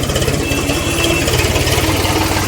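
A tractor loaded with sugarcane idles steadily at close range, its engine a loud, continuous low throb with a regular pulsing rhythm and no talk over it.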